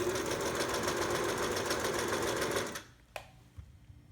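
A Singer 756 Touch & Sew zig zag sewing machine runs in a steady, fast mechanical whir of stitching for nearly three seconds, then stops abruptly, leaving a sharp click and faint handling noises close by.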